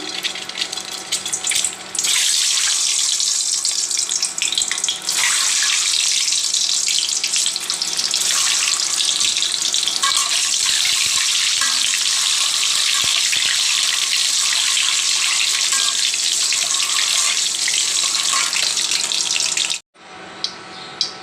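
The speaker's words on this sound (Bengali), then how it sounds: "তেলটা গরম হয়ে গিয়েছে দিয়ে দিচ্ছি ডিম ডিম হালকা করে বেজে নেব" Turmeric-coated eggs frying in hot oil for egg bhuna, a loud, continuous hissing sizzle that holds steady for about twenty seconds before cutting off abruptly, with no talking.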